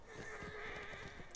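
A horse in a video game whinnies once in a faint, wavering neigh that lasts about a second, with no talking over it.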